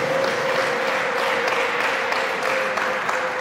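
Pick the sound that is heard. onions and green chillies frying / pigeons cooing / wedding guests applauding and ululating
wedding guests applauding and ululating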